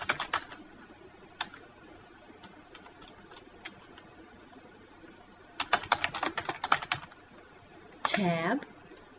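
Computer keyboard typing in Microsoft Word: scattered single clicks, then a quick flurry of keystrokes, and a closing burst under a voice.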